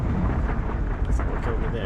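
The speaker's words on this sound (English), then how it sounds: "That was a random explosion that killed me." A deep, rumbling explosion booms in Horizon Zero Dawn, a loud, sustained low roar that lingers through the clip under a talking voice.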